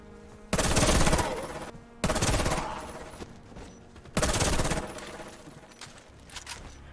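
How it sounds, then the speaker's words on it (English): A modified AKS-74U rifle firing in the video game Warface, three loud bursts of very fast automatic fire, each about a second long with brief ringing tails between. "I was able to turn a seemingly average AKS-74U into an incredibly accurate bullet hose, firing well over 1000 RPM"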